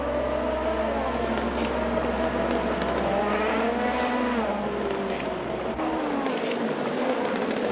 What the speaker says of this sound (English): Ri Liu is currently in the main straight right now.